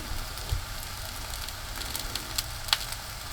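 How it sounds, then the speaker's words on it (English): Mushrooms sizzle in clarified butter in a hot skillet, giving a steady, close frying hiss with small pops and crackles and no talking. "We're going to add our mushrooms"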